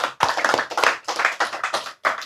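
A group claps hands during a religious teaching session, delivering a handful of loud, close bursts of clapping separated by short pauses.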